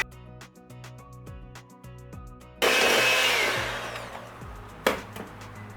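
An electric mixer blends softened cream cheese and butter, kicking in abruptly partway through with a loud, steady whir that gradually fades, heard over background music.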